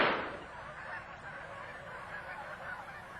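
Canada geese honking in the field, a burst of calls at the start settling into a steady, fairly near chorus of overlapping honks that carries on throughout.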